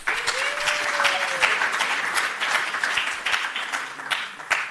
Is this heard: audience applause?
yes